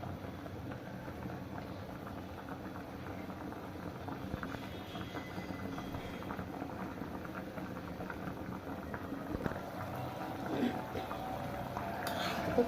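Chicken curry bubbles in a pot on a stove over high heat, a continuous low burbling simmer with soft popping, fairly quiet and steady, rising slightly toward the end.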